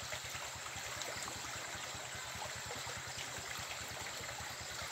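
Running water from a stream flows steadily and faintly in the background, with a low rhythmic engine-like pulsing underneath throughout.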